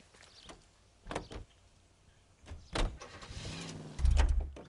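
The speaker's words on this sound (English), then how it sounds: "I don't think I ever drove this car before, so I'll do this one." In the video game L.A. Noire, a car door thumps shut and the engine starts, building to a low rumbling drive-off. The sounds come in a few separate clunks before the engine rises near the end.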